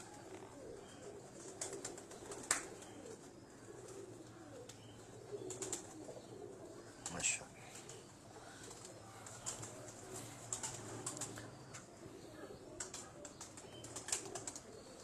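Jugnu and Red Bull breed pigeons coo softly in a loft, with low, faint calls repeating over a quiet background, broken by occasional wing flaps and chirps.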